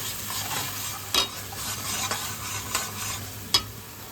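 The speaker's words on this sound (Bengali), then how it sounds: "এবার আমরা মশলাটাকে খুব ভালোভাবে কষাবো।" Masala of tomato paste and turmeric frying in a pan while stirred, a steady close sizzle broken by several sharp scrapes of the spoon, no talking.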